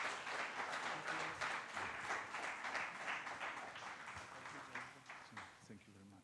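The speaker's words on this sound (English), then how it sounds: "I will ask you for an applause to our guests." An audience at a social economy conference applauds guests, a sustained wash of many clapping hands that thins out toward the end.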